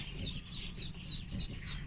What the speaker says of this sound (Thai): ลูกเป็ดที่เลี้ยงไประยะหนึ่งแล้วนะครับ